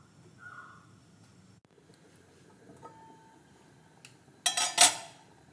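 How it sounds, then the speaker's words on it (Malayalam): A metal pot of fish curry is set on a stove and a lid is clattered onto it, giving a quick cluster of loud clanks near the end after mostly quiet kitchen background. "അപ്പോൾ നമുക്കിനി ഇത് അടുപ്പിലോട്ട് വയ്ക്കാം. അടച്ച് വയ്ക്കാം."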